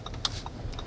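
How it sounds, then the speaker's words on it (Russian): An Audi Q7 with a V8 has its turn signal on inside the cabin. It gives a soft, regular ticking of small clicks, faint and close, with no voices over it. "Звук повороточки такой щелкающий"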